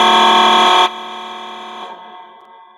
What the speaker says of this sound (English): while I'm doing this little buzzer thing